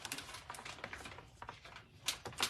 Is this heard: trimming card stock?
yes